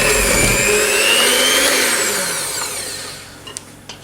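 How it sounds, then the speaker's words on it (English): An electric hand whisk creams butter and brown sugar for a traditional British Christmas cake, whirring loudly and steadily before winding down, then a couple of soft clinks as it stops. "I'm going to whisk it until the brown sugar has dissolved into the butter and is of a relatively smooth consistency"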